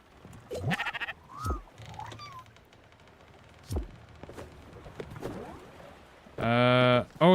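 Sheep bleat in the cozy boat-management game Spiritfarer: a short wavering bleat early on, quieter game sounds in between, then a louder, drawn-out bleat near the end.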